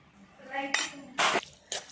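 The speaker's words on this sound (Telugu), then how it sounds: "సో నా చెయ్యి బాగాలేదు, సో అందుకనే నేను స్పూన్తో కలుపుతున్నాను" A spoon scrapes and clinks against a bowl while mixing salt into homemade mutton pickle, with three sharp metallic bursts close up and no voices.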